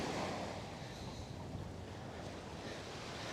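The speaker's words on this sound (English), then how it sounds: "Wasn't that so nice listening to the waves" Ocean surf washes onto a snowy Coney Island beach in winter as a continuous, soft roar with gusty wind rumbling against the microphone, and no voices.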